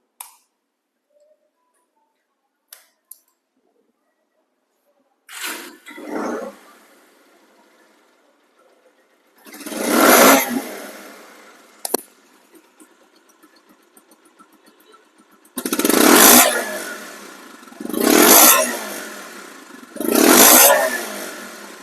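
A second-hand Bajaj Pulsar disc-brake motorcycle engine starts with a few ticks, then idles and is revved in several loud bursts that rise and fall, close up and without talk.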